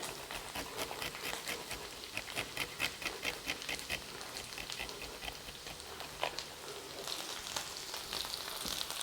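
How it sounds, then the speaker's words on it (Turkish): Sauce poured into a pot of hot oil for Bodrum çökertme kebab sizzles and crackles steadily, a continuous close hiss with popping spatters and no talking. "sıvı yağı koyduğumuz tencereye sosumuzu döküyoruz."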